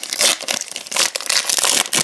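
A Donruss Optic trading card pack wrapper crinkles and tears in close, sharp bursts, several quick rustling crackles in a row with brief gaps.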